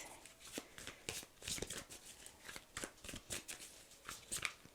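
Tarot cards being shuffled by hand, a close run of quick papery riffles and flicks in irregular bursts, with no talking.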